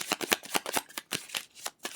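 Tarot cards are shuffled up close in a quick run of crisp riffling flutters, about a dozen rapid bursts with brief pauses between them.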